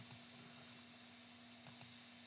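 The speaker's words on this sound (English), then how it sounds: "So we can just go ahead and click on that." Three crisp computer mouse clicks, one alone and then two in quick succession, faint and close against a steady low electrical hum.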